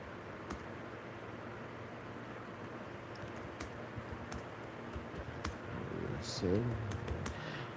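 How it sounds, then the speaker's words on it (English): Someone types on a computer keyboard to answer chat messages during a live stream, making soft, scattered key clicks at an uneven pace against faint background hiss, with a brief murmur near the end. "I'm just typing to respond to Julie."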